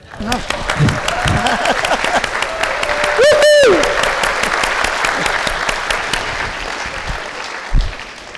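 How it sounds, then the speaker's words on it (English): An audience applauds at a book release conversation, with sustained clapping for several seconds and a voice calling out briefly partway through before the clapping fades toward the end. "This is the part where you clap just a little bit."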